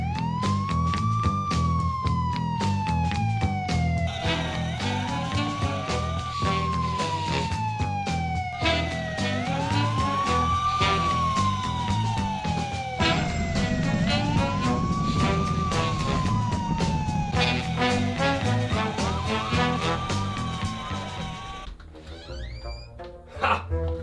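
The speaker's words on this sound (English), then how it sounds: "That's the sound of the police!" A police siren wails loud and close, rising and falling in repeated sweeping cycles over a busy background that fades toward the end.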